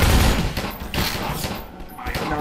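Rapid bursts of gunfire in Half-Life 2 strike the player, loud and close, with sharp overlapping shots in a dense volley that tapers slightly toward the end.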